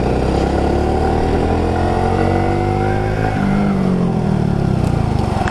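A Kencana Sport 115 motorcycle engine roars loudly up close, its pitch rising and falling as the bike accelerates and then brakes.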